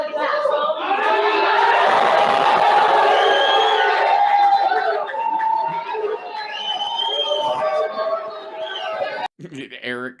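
A crowd cheers and shouts at a public appearance, a loud swell of voices that fades into scattered calls, with a talking voice breaking in near the end.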